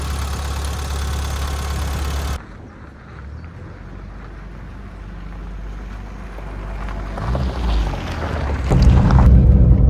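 Engine noise from a 1990 Renault 5 GT Turbo, steady at first, then cutting to a quieter rumbling interior drone that swells louder toward the end as it gets moving.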